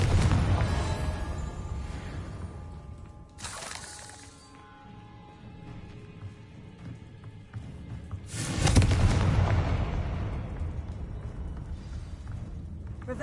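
Confringo fire spells explode in the video game Hogwarts Legacy, with two heavy booming blasts several seconds apart rising over a continuous low game rumble and ambience.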